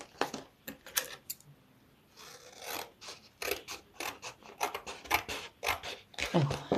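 Scissors snip through the cardboard of a biscuit box in a run of short, crisp cuts with brief pauses, close and fairly quiet, with no talking.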